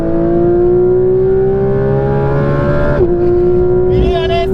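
A Porsche 992 GT3 RS at high speed, its engine a loud steady howl from inside the cabin that climbs in pitch, drops sharply at a shift, then rises again as a voice speaks over it.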